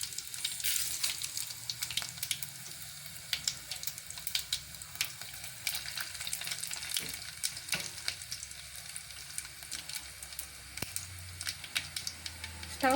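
Garlic, mustard seeds and cumin are being tempered in hot oil on a low stove, giving a soft, continuous sizzle dotted with small crackles and pops, quiet and close with no talking.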